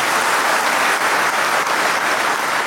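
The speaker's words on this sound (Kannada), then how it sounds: "ನೀವೆಲ್ಲ ಚಪ್ಪಾಳೆ ತಟ್ಟಿದ್ದೀರಾ" Dense, steady applause from a large audience gathered at a religious assembly honoring the Siddaganga seer, continuous and loud throughout with no voices standing out.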